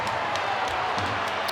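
Home crowd at a Sheffield Steelers versus Nottingham Panthers Elite League ice hockey game applauds a finished hit, a broad wash of arena clapping and murmur at moderate loudness, steady throughout.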